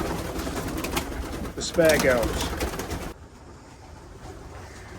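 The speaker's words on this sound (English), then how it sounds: "They're quite happy to be in with these pigeons at the minute." Pigeons coo in a loft, a soft warbling call rising briefly over a bed of rustling and background noise, while a person speaks nearby; the room noise drops off abruptly partway through.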